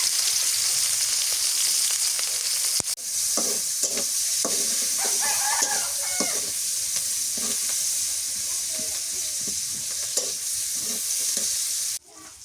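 Chopped onion frying in a pan, a steady loud sizzle with scraping stir strokes repeating throughout, ending abruptly near the close.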